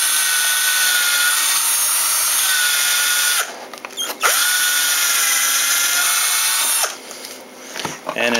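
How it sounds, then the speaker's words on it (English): A power drill bores holes through a template held against a board, running loud and steady for about three seconds, pausing briefly, then drilling again for a similar stretch before stopping, with a short gap and restart near the end. "Now we're going to go ahead and drill back here."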